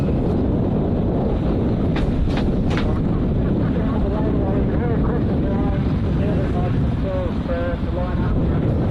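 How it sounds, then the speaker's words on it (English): A V8 superboat engine starting up at a race meeting in Keith, South Australia, giving a loud, steady broadband roar that fills the whole stretch while an announcer talks over it. "so you can hear PK getting this boat started."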